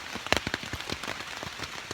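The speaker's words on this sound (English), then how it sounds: "It is pouring. Well, it's raining, not quite pouring yet." Rain patters on the fabric of a tent, an irregular scatter of close, sharp drops with a few louder splats, heard alone with no voices.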